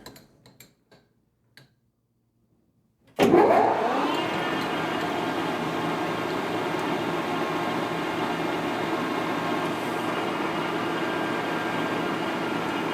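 A lathe cuts threads on a CZ 457 rifle receiver: a few faint clicks give way to a motor spinning up abruptly, then a steady, close whirring hum with a faint rhythmic tick persists unchanged to the end.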